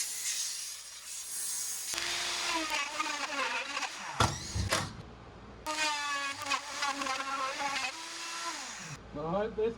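A Makita power drill bores through a boat hull during sterndrive mounting, its whining motor rising and falling in pitch across several bursts with brief pauses between them, close and fairly loud.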